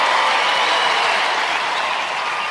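Loud, dense arena crowd applause at an indoor sports entertainment show, a continuous roar of clapping that stays strong and even for the whole stretch.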